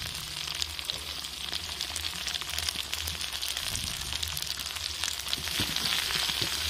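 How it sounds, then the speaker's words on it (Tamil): Steady, dense sizzling of small eggplant pieces sautéing in hot oil, with occasional crackles and soft stirring scrapes, close up and continuous. "இந்த எண்ணெயிலே நம்ம வந்து கத்திரிக்காயை நல்லா வதக்கிக்கலாம்."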